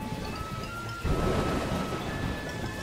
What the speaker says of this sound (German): Mein Gott, so viel Gewitter.